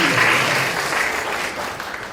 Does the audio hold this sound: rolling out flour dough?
no